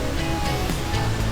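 Ocean waves wash over coral rocks at Ngrawah beach, a dense continuous surf rush that stays loud and close throughout.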